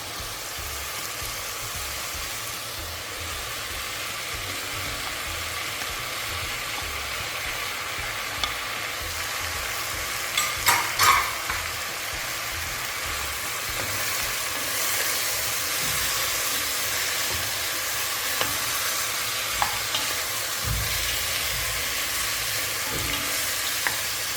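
Potato and carrot are stirred into a simmering chicken stew, a steady close sizzle and bubbling hiss with a few faint scrapes of a spoon against the pot.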